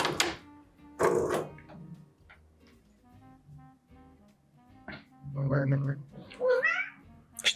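A house cat named Lumi lets out a few short, faint meows indoors near a person crocheting, with soft household noises and quiet handling sounds between them.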